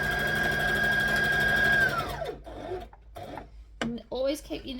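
Sewing machine stitching a library bag runs steadily with a high whine for about two seconds, then winds down and stops, leaving soft handling rustles and light clicks.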